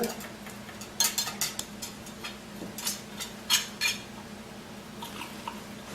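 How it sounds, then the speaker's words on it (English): A utensil stirs yeast into an orange honey mead mixture in a vessel, giving a series of close, bright clinks and scrapes in an uneven rhythm with quiet pauses between them. "So now we're gonna give the yeast one last stir."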